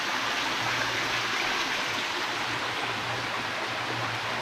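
A small stream of water flows beside a lagoon, a steady soft rushing and trickling heard close by with no voices.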